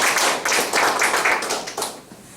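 A class at a Korea Polytechnic college lecture breaks into close, loud clapping, sharp hand claps in short bursts that fade out near the end.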